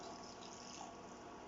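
Hot milk poured onto egg yolks for a banana crème brûlée: a steady, soft liquid stream that runs unbroken and close, with no voices.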